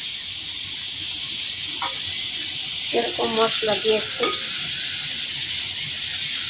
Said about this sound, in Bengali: এখন আমি কয়টা পেঁয়াজ বেরেস্তা করে নেব